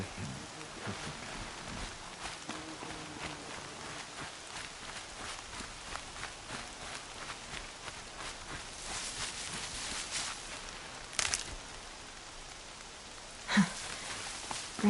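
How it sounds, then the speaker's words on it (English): Rain falls in the video game Horizon Zero Dawn as a steady, fairly quiet patter with scattered drops and a few louder splashes or taps near the end. "Rain's not so bad."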